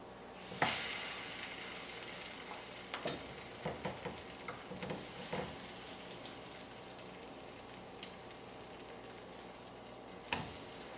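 French toast frying in a pan, a steady soft sizzle running throughout with a few sharper clicks and taps of a utensil, moderately quiet and close, with no talking.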